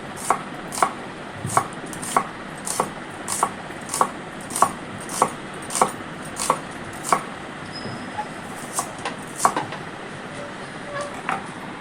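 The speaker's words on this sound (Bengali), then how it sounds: "তিনটা অথবা চারটা পেঁয়াজকে কুচি কুচি করে নেব" Onions chopped finely with a knife on a board for a small-fish chili curry, close sharp knocks in a steady, slightly uneven rhythm about every half second, over a low kitchen background.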